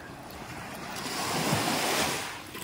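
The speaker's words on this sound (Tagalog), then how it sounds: "Ito yung pinaka ng White Beach, Puerto Galera." Ocean waves on White Beach in Puerto Galera swell and wash ashore in a soft surge, with light wind buffeting the microphone, fairly faint and without talk.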